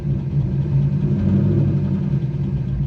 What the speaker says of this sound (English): I'm gonna let you guys hear what it sounds like if I give it just a little rev